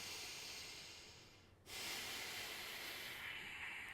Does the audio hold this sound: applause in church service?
no